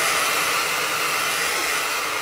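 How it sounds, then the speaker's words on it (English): A hair dryer on its cold setting blows in a loud, steady whoosh of air, close by and unbroken throughout, with no voices. "I'm also gonna dry the brows with the hairdryer."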